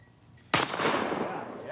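A single close, loud shotgun blast at a sporting clays course, cutting in sharply after a quiet moment and then trailing off in a long ringing echo.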